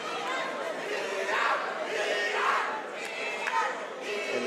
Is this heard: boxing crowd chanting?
yes